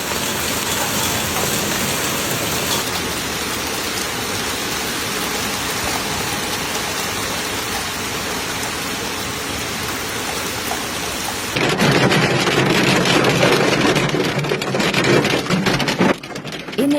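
Heavy rain pours down steadily during a hailstorm in Italy, a dense, loud roar that grows harsher and more intense partway through, with no voices.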